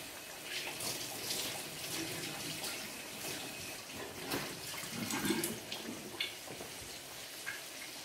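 A kitchen tap runs while pork chops are rinsed under it, a steady moderate splashing stream with irregular clatters and splashes as the meat is handled, no voices.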